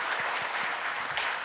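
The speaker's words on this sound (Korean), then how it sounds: "우리 그런 분들을 위해서도 우리 박수 한번 하도록 하겠습니다" A short burst of steady applause from a church congregation during a Sunday service, many hands clapping together at an even level with no voices on top.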